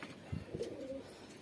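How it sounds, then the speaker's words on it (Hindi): A pigeon coos faintly on a rooftop beside a loft, a short low coo followed by a longer drawn-out one, quiet and fairly close, with no talking. "जब मैं पहुंचा तो ये देखें कबूतर बैठा है"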